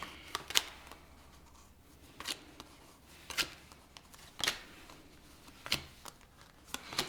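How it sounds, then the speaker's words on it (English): Tarot cards being shuffled and pulled from a deck: a series of crisp riffling bursts and snaps about once a second, close and clear over quiet room tone with no talking. "We're going to pull all the cards"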